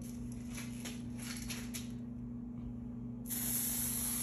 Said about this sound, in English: when you're spray painting, you want to keep moving